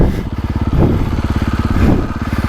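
A 2024.5 KTM 450 Factory Edition dirt bike engine is heard close up, with a rapid, loud throbbing exhaust pulse at steady revs and two short throttle surges.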